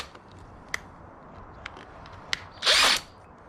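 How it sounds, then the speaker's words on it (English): A brief, high-pitched power drill whir lasting under a second, drilling into a Mugen shock absorber with a small bit, preceded by a few scattered clicks and taps in an otherwise quiet space. "Got my smallest drill bit I have."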